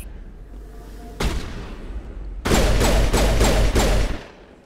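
Gunfire from the video game Mass Effect: a loud burst of rapid shots, then a denser volley of repeated heavy blasts with thumping low end, close and dominant with no talk over it.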